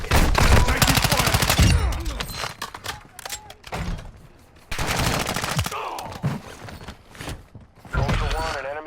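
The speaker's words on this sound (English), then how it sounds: "Taking fire." Bursts of automatic gunfire in a Call of Duty combat mission, loud and close in dense rattling volleys separated by short pauses, with radio chatter and voices mixed in.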